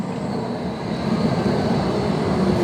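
A Škoda 52T tram in Prague gives off a steady, loud, low mechanical rumble and whirring motor drone, continuous and close with no speech.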